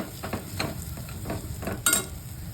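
Spice paste being stirred and sautéed in a pan for a buttermilk kadhi, with soft sizzling and a series of scraping stirs repeating every fraction of a second, close and fairly quiet.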